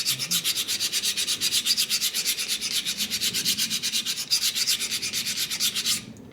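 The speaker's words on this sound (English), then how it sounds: "Decarbon your valve on the curb, you just gotta be careful." A motorcycle valve, from a 2004 Harley-Davidson FLHT Twin Cam touring bike's top end, is rubbed back and forth on a concrete curb to scrape off carbon, giving a steady, rapid, rhythmic gritty scraping for about six seconds before stopping.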